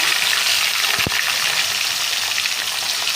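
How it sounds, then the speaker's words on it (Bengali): Prawns frying in hot mustard oil in a wok, a steady broad hiss and sizzle that fills the whole stretch at close range, with one brief low thump partway through. "চিংড়ি মাছটা একটু ভেজে নিচ্ছে"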